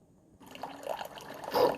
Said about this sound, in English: You're going to get another burst of water through the K-Cup here.